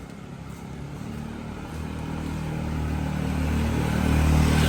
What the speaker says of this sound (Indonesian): agak lumayan rame motor lalu lalang